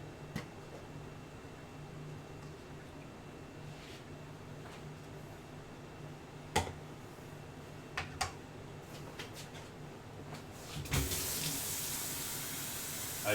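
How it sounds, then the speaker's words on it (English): A kitchen sink tap sprays water in a sudden broadband burst near the end, after quiet kitchen background with a few sharp clicks and taps. "I just got sprayed by my sink."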